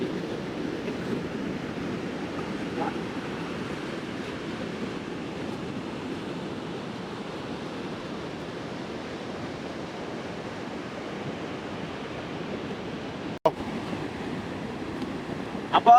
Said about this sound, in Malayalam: കാറ്റുണ്ട് കടലിന്റെ സൗണ്ട്